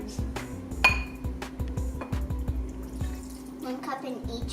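Vegetable broth poured from a cup into glass bowls, with a few sharp glass clinks and knocks among light splashing, close and fairly clear against a steady low kitchen hum.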